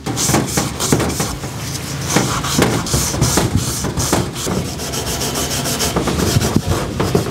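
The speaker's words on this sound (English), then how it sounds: "Just gonna run a bit of scotch right across the uh, surface of the main bearing journal" Scotch-Brite pad scrubbing the main bearing journal surface of an RB26 engine main girdle, a continuous close, loud abrasive rubbing in quick back-and-forth strokes.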